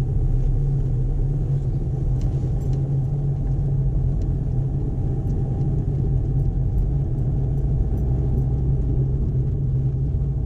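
Car on a busy main road during a driving lesson, heard from inside as a steady loud engine hum and road rumble with no break in the drone.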